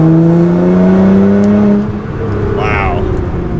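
A tuned 600 WHP Nissan GT-R accelerates from 50 to 60 in fourth gear, a loud close engine drone with rising tonal whine inside the cabin that eases off partway through.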